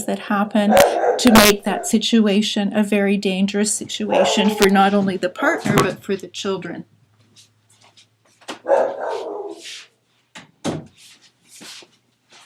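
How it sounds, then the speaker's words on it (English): A person talks steadily while a dog barks intermittently in the background, with short sharp bursts continuing after the speech pauses. "Sorry about the barking in the background."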